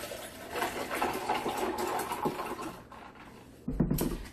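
Tea poured into a glass in a home kitchen, a steady trickling pour running for several seconds at close range with a brief louder splash near the end.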